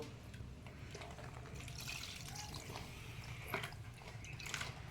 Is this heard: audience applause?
no